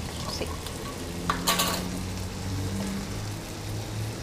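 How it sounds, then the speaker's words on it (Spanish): Chicken broth and cream go into a boiling pan and hit it with a loud burst of sizzling, then settle into a steady bubbling and frying hiss, close and alone. "Ya que está hirviendo, vamos a agregar el caldo de pollo y la cremita."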